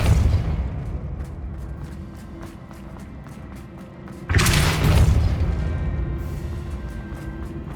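A Bombarda spell explosion in the Hogwarts Legacy video game, a sudden heavy boom midway that rings out and slowly decays over a rumbling game background with faint footsteps, no talking.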